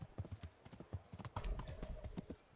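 A horse gallops in the Kingdom Come: Deliverance video game, with quick, rhythmic hoofbeats thudding close and clear throughout, alone without talk.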